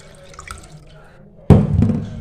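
Water is poured over small dried fish to make fertiliser for a rooftop garden, a sudden close splashing gush after a few faint drips.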